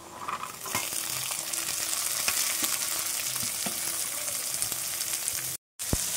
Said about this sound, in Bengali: পেঁয়াজটা ভাজা ভাজা হয়ে গেছে, বিনস গাজর আর কাঁচা লঙ্কা কুচিটা দিয়ে দেবো।